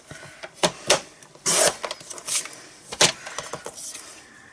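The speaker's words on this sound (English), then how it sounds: "we're going to cut down our sentiment, and then we'll be finished with the trimmer" A paper trimmer slices a sentiment strip for a birthday card, with a series of short sharp scraping cuts and clicks, close and fairly loud, with no voices.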